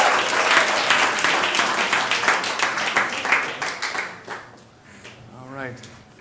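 A game show audience breaks into loud applause for the contestants. The dense clapping fades away after a few seconds, and a voice follows.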